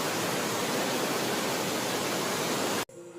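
River water rushes through dense forest near Uluvi in Karnataka, a loud, steady broadband roar filling nearly the whole stretch before cutting off abruptly near the end, with no voices.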